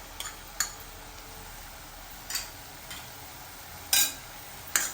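Spices such as coriander, cumin and red chili powder with asafoetida and turmeric being sautéed in a pan, a faint steady sizzle broken by several sharp scrapes and clinks of a spoon against the pan.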